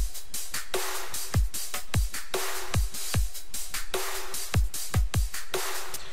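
A punchy future bass electronic drum loop, mixed and EQed, plays alone, with booming kicks, crisp snares and hi-hats in a steady, repeating groove.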